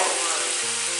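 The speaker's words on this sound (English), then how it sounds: "To that, I'm going to add just a touch" Tender mushrooms sizzle hard in a pan as a splash of white wine goes in, a brief, dense, even hiss heard up close and alone.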